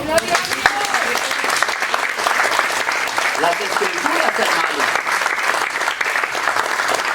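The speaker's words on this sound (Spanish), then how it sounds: "¿Puedes dar un aplauso al Señor?" A church congregation claps steadily and densely through the whole stretch, a loud, sustained wash of applause with a preacher speaking over it partway through.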